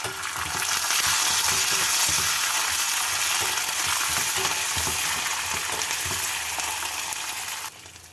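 Dried red chillies, curry leaves and green chillies fry in hot oil with a loud, dense, continuous crackling sizzle and light stirring knocks, close up, ending abruptly near the close.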